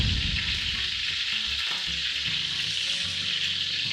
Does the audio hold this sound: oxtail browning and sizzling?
yes